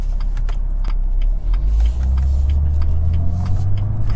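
A BMW M240i in Sport Plus with paddle-shift mode, accelerating hard with a deep engine rumble that climbs steadily over several seconds, heard from inside the cabin with no talking.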